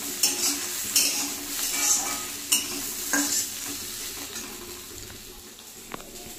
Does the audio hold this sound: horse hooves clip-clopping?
no